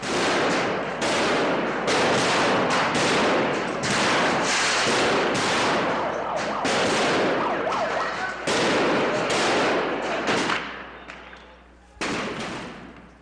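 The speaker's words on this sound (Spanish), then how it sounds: "Los estallidos son de fuegos artificiales lanzados por los palestinos y piedras contra las fuerzas de la policía de Israel" Fireworks bursting during clashes between Palestinians and Israeli police, a dense loud run of rapid cracks and bangs that goes on for seconds, thins briefly, then resumes.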